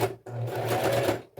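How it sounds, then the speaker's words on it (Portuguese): Sewing machine stitching a knee pad, a short close burst of fast mechanical running that starts abruptly and stops after about a second. "E vou passar uma costura aqui,"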